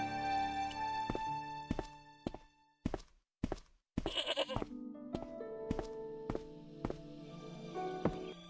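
A goat bleats repeatedly in the adventure video game Broken Sword: several wavering, nasal bleats up close, mixed with soft thuds and brief clean gaps, all without speech.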